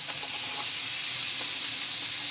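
Onions fry in a pan as they turn brown and see-through, making a steady, even hiss and sizzle up close with no voices.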